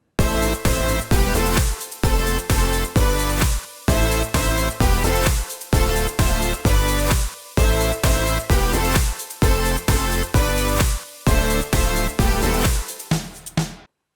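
Electronic dance drop built in GarageBand: loud, dense synth chords and heavy bass pumping in rhythmic bursts with short gaps, repeating bar after bar before cutting off at the end.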